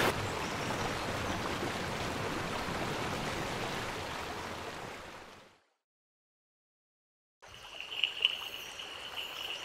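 A forest stream in the Western Ghats flows steadily as a dense, even rush of water, which fades out into a few seconds of silence before faint ambient sounds return.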